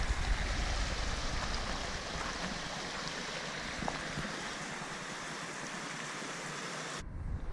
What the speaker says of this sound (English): alongside the river.